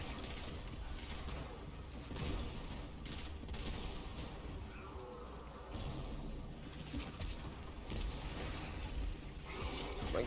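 Continuous rapid gunfire and crashing impacts from the video game Destiny 2 fill the whole stretch at a fairly low, steady level, with dense overlapping shots and no clear pauses.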